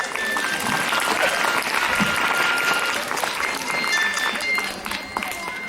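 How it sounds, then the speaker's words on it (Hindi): A school audience claps throughout a magic show, dense sustained applause with laughter and voices mixed in, fading slightly near the end. "ताली बजा रही है"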